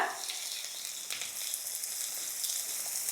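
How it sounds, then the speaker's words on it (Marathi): Steady, bright sizzle of onion frying in hot oil, close and continuous, with a few faint crackles and no voices. "तेल तापलंय सगळ्यात पहिल्यांदा आपण कांदा टाकूया"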